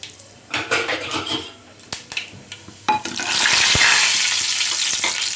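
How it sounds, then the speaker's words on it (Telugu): Tempering seeds hit hot oil in a pan on the stove, a few clinks of utensil on metal first, then a loud, steady sizzle and crackle that keeps going to the end. "ఇప్పుడు మనం ఇందులో తాలింపు గింజలు వేసుకుందాము."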